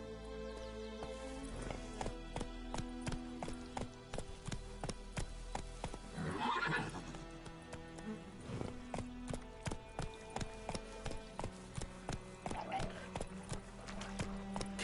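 A horse in The Witcher 3 gallops with a steady, rhythmic clip-clop of hooves, with a neigh in the middle and a voice speaking over the hoofbeats.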